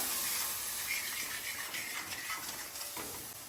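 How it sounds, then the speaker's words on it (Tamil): Roasted wheat flour and milk stirred together in a hot pan, giving a steady close hiss and sizzle with faint scraping movement throughout, no voices. "அப்படியே ஒரு டவர் பால் ஊற்றுறேன் ஓகேங்களா இப்போ இதையும் நல்லா போட்டு கிளறி கொடுக்கலாம்"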